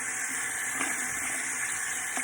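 Warm water runs from a tap into a sink, a steady close hiss and splash with a couple of faint clinks over the continuous flow.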